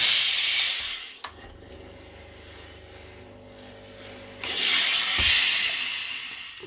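A steam iron hisses loudly up close while pressing fabric to set a crease for a sewing project, in two long bursts separated by a quieter stretch with a low hum.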